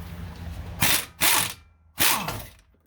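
Pneumatic impact wrench removing brake bolts on a Ford Excursion's front brakes, firing three sharp, loud rattling bursts close by with short pauses between them and no speech.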